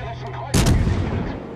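Naval gunfire in World of Warships Legends on PS4: a single loud, close cannon blast after a quiet hum, with a booming tail that rolls on and fades.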